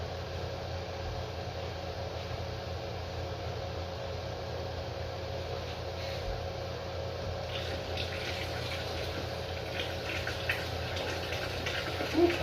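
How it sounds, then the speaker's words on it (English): Water pours steadily into a cooking pot for a long stretch, a constant rushing wash with a faint rising fill toward the end and no voices. "I'm gonna add some water to that."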